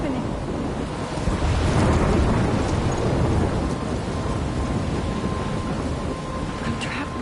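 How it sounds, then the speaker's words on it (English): Storm in the video game Life Is Strange: a steady roar of wind and rain with low rumbling thunder, loud and continuous throughout, no talk. "I'm trapped in a storm?"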